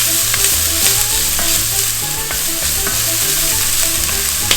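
One medium onion sautés in olive oil in a pot for white chicken chili, a steady close sizzle with scraping stirs, joined by a low tonal backing throughout.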